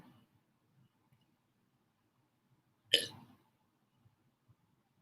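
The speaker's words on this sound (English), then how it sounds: "That was a tiny burp, but I had to press on my throat." A single tiny burp, forced out by pressing on the throat, sounds once as a short close puff in an otherwise quiet room.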